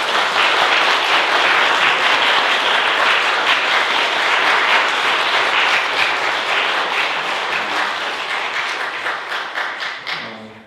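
Sustained, loud applause from a concert audience rewards musicians after a church mission's harmony music performance, a thick wash of many clapping hands lasting about ten seconds, then thinning into scattered individual claps as it fades.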